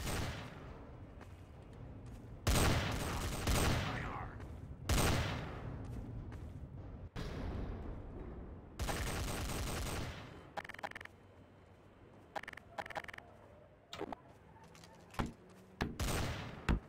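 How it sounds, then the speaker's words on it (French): Gunfire in Garry's Mod DarkRP as mobsters shoot it out: loud repeated volleys and bursts of shots, some in rapid clusters, over a steady background, with no voices. "Ouais, ça tire."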